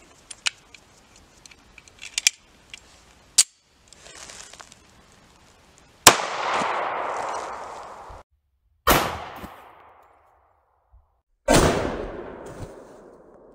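.45 ACP SIG full metal jacket rounds fired into body armor, loud sharp gunshots at about 6, 9 and 11.5 seconds, each with a ringing decay, after a few smaller clicks and knocks.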